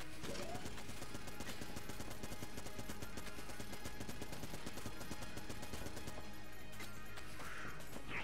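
Busy, relentless gunfire in the Enter the Gungeon video game, with rapid repeated shots layered over music and clashing effects, loud and constant for the whole stretch.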